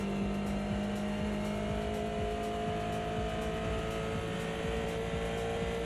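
Tyres squeal continuously on a race car in the Automobilista 2 sim racing game, a steady strained whine riding over the engine drone with no talk.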